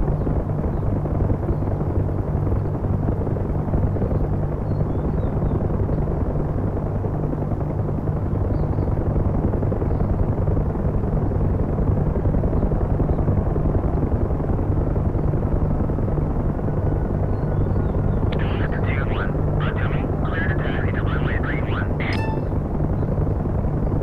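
A UH-1 Huey helicopter in the DCS flight simulator drones steadily with a heavy, continuous rotor and turbine roar throughout, with brief metallic clinks and rattles near the end.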